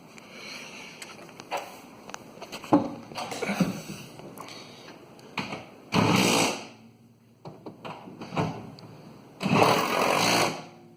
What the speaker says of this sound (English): We are just gonna go inside and tighten the 3 bolts of the top hat with a 12 millimeter